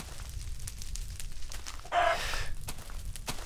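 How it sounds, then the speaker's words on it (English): Chickens cluck softly in Minecraft Alpha 1.2.3_04 over a low background hum, with one brief louder squawk partway through and faint steps. "Oh yeah, chickens"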